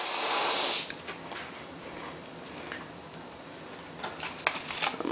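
An airbrush sprays dye onto leather in a loud, steady hiss that cuts off after under a second, followed by softer, intermittent bursts of spraying up close.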